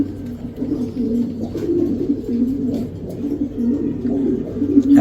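Giribaz pigeons coo close by in a continuous run of throaty, rolling calls that overlap in a steady rhythm, fairly loud and alone without talk.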